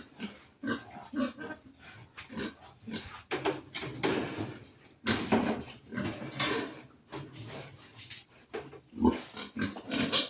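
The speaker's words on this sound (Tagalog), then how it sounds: "Tapos pakakawalan na natin yung mga biik." Piglets squeal and grunt as they are released from a pen, giving a busy stream of overlapping close animal cries with some knocking and scraping.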